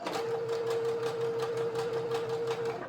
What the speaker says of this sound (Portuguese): eu vou fazer uma costura de ponta a ponta